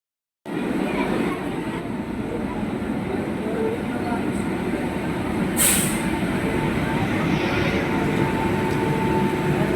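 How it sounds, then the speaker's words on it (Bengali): A train pulling into a railway station platform: a loud, steady rumble that fills the whole stretch, with a brief sharp hiss like an air brake partway through. "এই ট্রেন ঢুকলো"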